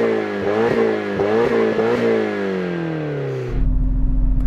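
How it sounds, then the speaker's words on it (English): A Nissan JDM car engine blips through several sharp, close revs, then drops back to a low, steady idle rumble for the last second. No voices are heard. "now let's have a listen to the Nissan"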